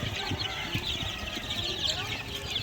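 Chicks and young chickens, a Rhode Island Red and White Leghorn crossbreed, peep and cluck together as a steady, dense flock chatter that runs throughout at close range.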